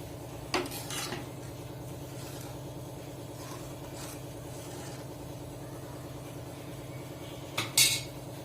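Utensil stirring spicy onion and pea curry in a pan, with two sharp metallic clinks near the start and end over a steady low background hum, no talk.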